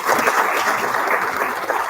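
A policy dialogue audience claps for the panelists in a brief, steady burst of mid-level applause with no voices over it.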